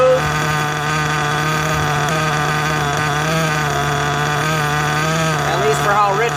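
A nitro RC engine idles steadily during break-in, running rich and smooth, with a continuous buzzing drone that holds even and loud throughout.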